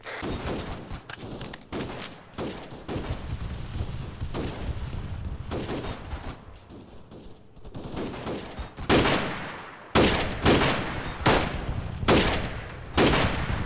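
Sustained automatic fire from a mounted machine gun in a military shooter game, with rapid bursts repeating throughout and heavier, louder volleys near the end, close and dense.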